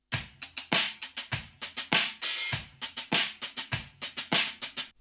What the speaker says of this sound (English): That all came from just my little sketch on the drums first up.